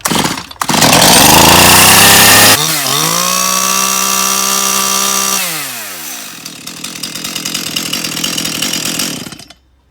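Stihl MS181 chainsaw on full choke: the engine catches and roars loudly at high revs, drops to a lower idle, then splutters in rapid uneven pulses before cutting out, with no voices.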